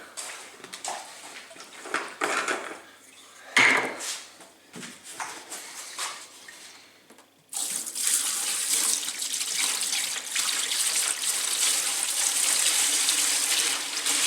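Cleaning liquid pours into a carburetor bath for motorcycle carburetors, starting with scattered clinks and trickles, then a steady loud gushing pour filling the container for several seconds.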